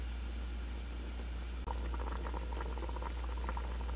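Swiss chard and other garden greens simmer in a pot, giving a constant low bubbling boil under a steady hum, with a brief click partway through and then livelier popping bubbles.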